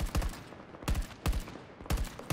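Gunfire from a high-recoil gun in Battlefield 2042 Hazard Zone: short bursts of rapid automatic shots, four clusters spaced with brief pauses, punchy and close.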